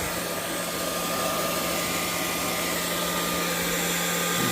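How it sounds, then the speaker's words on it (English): A hair dryer blows over alcohol ink artwork, a loud, steady, close-up whir with a constant motor hum that runs unbroken throughout. "most of this is dry because I've had the hairdryer on it"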